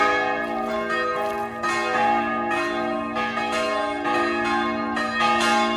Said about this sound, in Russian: Колокола.